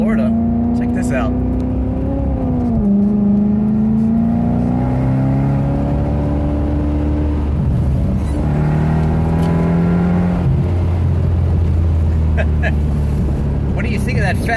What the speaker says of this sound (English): What do you think of that Fab Speed exhaust?